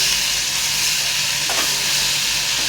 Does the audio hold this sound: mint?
yes